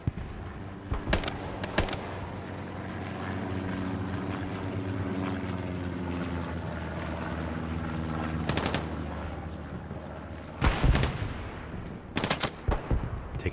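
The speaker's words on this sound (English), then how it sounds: "Taking these FG-42 shots." Sharp bursts of FG-42 rifle fire in the video game Hell Let Loose, set in the Hurtgen Forest on the Siegfried Line, cracking out in short volleys over a steady droning background, with several loud shots clustered toward the end.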